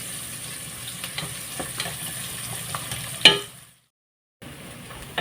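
Onion and green chilli crackle and sizzle in hot tempering oil while a spoon stirs and scrapes the pan with several sharp clicks. Then the sound drops to silence before a faint return.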